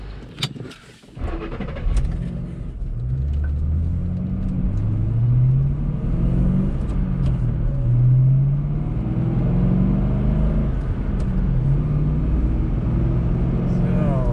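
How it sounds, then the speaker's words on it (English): A 2008 Ford Mustang Bullitt pulls away and drives on, its engine rumbling loud and close as it rises and falls through the gears, with a brief knock at the start. "Taking off in the 2008 Mustang Bullitt."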